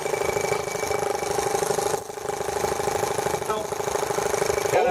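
A T26 tractor engine running as it drives forward, a steady close mechanical drone with a dip partway through and a faint whine near the end.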